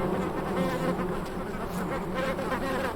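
Bees crowd a densely packed nest in the Sonoran Desert during prickly pear bloom, their loud, continuous droning hum close and steady throughout.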